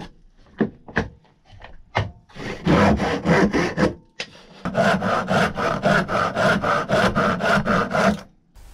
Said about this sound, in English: I will do that cut first, and then I will cut this bit line further than I need